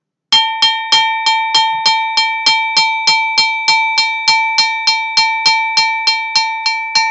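A bell part from a Kakilambe rhythm rings out in a steady, even pulse of bright, clear metallic strikes, about three per second, loud and close and played alone without voices.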